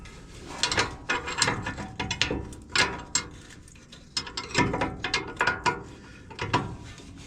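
Ratchet wrench removing bumper bolts from a 1957 International Harvester Metro chassis, close, rapid clicking strokes in repeated bursts with short pauses between them.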